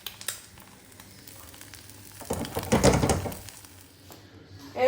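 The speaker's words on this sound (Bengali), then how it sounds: "চলো ভেজে নিই।" Luchi, a puffed fried flatbread, goes into hot oil and sizzles steadily, the frying swelling louder for about a second midway before settling back, with faint kitchen clatter at the edges.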